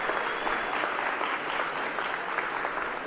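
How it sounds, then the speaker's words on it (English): Sustained applause from a crowd at a robotics tournament qualifier, dense even clapping filling a large hall with little variation throughout. "Let's hear a big round of applause"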